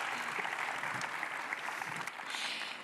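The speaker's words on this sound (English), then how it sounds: "have a great round of applause." An audience applauds steadily as a panel leaves the stage at a forum event, the clapping quiet but continuous for about three seconds.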